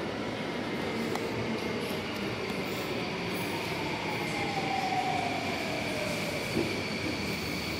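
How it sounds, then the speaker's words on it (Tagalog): A commuter train pulls into a station, its steady rumble of wagons carrying a faint rising wheel squeal midway through, close and continuous, with no talking. "Yan po yung train ko."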